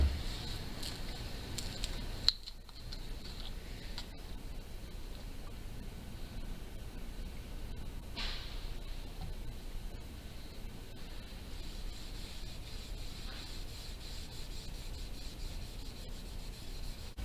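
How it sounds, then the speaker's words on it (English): An old shirt rubs a thin coat of varnish onto a gourd banjo, giving a soft, continuous hiss of cloth across the surface, faint and close, with a couple of small knocks. "I just have an old shirt here, and I'm going to apply the varnish thin coat."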